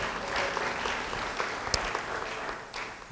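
A church congregation breaks into applause during a sermon, a moderate, sustained patter of clapping from many hands with a few sharper claps and a brief louder burst partway through.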